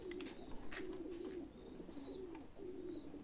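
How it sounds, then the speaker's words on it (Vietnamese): A pair of Thai Titan pigeons coo close by in a pigeon-rearing loft, several low throaty coos repeating in a steady rhythm, with faint higher chirps and light rustling in between. "như cặp con chim bồ câu này đi"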